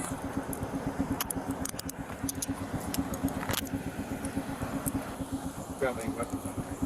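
Metal handcuffs clink and rattle in light jangling bursts as a detained person is cuffed beside an idling car, under steady engine hum with people talking nearby.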